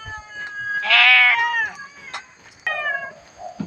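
A cat meows several times at an animal shelter, with one long plaintive meow followed by shorter calls, close and fairly loud against a quiet background.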